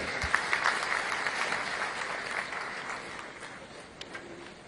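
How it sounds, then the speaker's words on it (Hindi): Applause from an audience at a farmers' fair and agricultural exhibition opening in Chhattisgarh, welcoming the chief minister; steady, moderately loud clapping throughout with a few sharper claps standing out. "जोरदार ताली से आप स्वागत करें"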